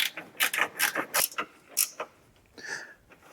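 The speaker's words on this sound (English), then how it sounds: "So I'm going to use that ratcheting wrench to tighten those up." A long-handled ratcheting wrench tightens strut bolts on a 2011-15 Ford Explorer or Edge, giving a series of close, crisp ratchet clicks in uneven bursts, with a short pause near the end before a few more.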